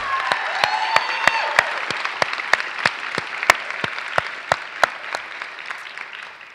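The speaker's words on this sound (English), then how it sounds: "Please join me in giving them a round of applause." Audience applause at a spring commencement ceremony, steady broadband clapping with sharp individual claps standing out, fairly close and sustained throughout without speech.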